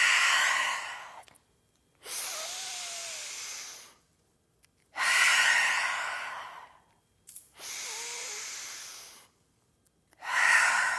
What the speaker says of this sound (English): we'll seal in with 3 deep cleansing breaths